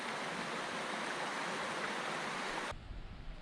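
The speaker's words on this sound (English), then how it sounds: "We are crossing Flat Laurel Creek." Flat Laurel Creek in the Shining Rock Wilderness of Pisgah National Forest rushes in a steady, close hiss of flowing water that cuts off abruptly near the end.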